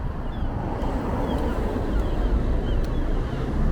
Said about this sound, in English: God, it really is quite windy.